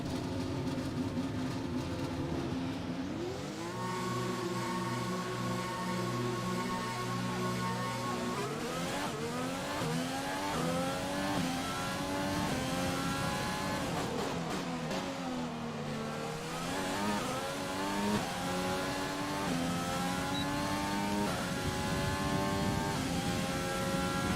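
An F1 race car in the video game F1 2020 running laps at Melbourne, its engine note climbing and dropping in steady sweeps through repeated gear shifts, loud and continuous throughout with no talk.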